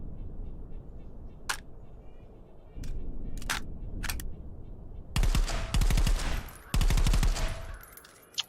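Suppressed gunfire from a modern weapon on a shooting range in Contractors VR: scattered single shots at first, then two dense rapid bursts of muffled, bass-heavy reports, moderately loud against faint background noise.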